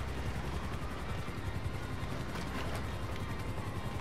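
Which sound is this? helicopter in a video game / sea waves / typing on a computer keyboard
helicopter in a video game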